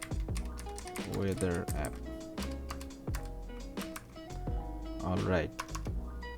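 Rapid clicking of code being typed on a computer keyboard, steady bursts of keystrokes running under a voice as he narrates.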